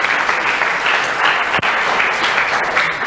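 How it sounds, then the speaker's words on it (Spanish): Congregation applauding during a Spanish-language church service, a dense, loud, sustained burst of clapping with no talk over it. "Dele un aplauso a Dios, por favor"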